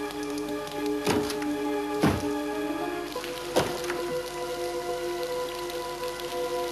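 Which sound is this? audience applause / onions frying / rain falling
rain falling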